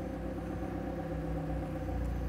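A Lamborghini Aventador SVJ or McLaren 720S hypersport convertible settles into a steady idle just after starting, a low even rumble held at moderate, fairly quiet level throughout with no voices.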